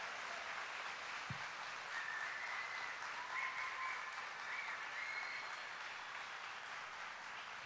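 Worshippers in a church congregation applaud together, a steady, even roar of many clapping hands heard from some distance, with one brief thump early on.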